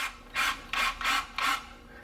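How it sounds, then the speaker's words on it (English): A power drill drilling out the stripped drain-plug thread of an oil pan on a Honda, four rasping bursts about a quarter second apart, close and fairly loud with short pauses between. "we're gonna go ahead and drill this out."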